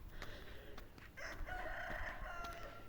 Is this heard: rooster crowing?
yes